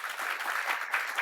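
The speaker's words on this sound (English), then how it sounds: "Round of applause again." An audience applauds in a brief, dense burst of steady clapping at a biotech startup finale event, close and continuous without voices.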